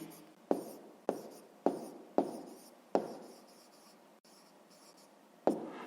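A pen writes out the answer to a sixth-grade maths exercise on paper: several crisp, close strokes, each fading quickly, come in an uneven rhythm with short pauses and no talking.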